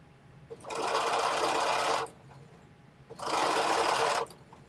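Two sustained bursts of a sewing machine running over knit fabric, each about a second and a half, separated by a brief quiet pause, close and clear.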